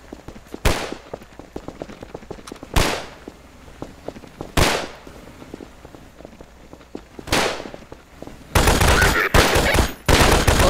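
Gunfire in the Garry's Mod game during a zombie invasion round: four sharp, separate shots spaced a couple of seconds apart, then a dense rapid burst of firing near the end.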